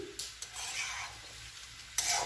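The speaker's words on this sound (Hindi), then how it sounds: "मूली और भाटा थोड़ा फ्राई हुआ है कि नहीं" Radish and brinjal frying in a pan while a spoon stirs them, a soft sizzle under repeated scraping strokes, fairly faint and close, with a sharper scrape near the end.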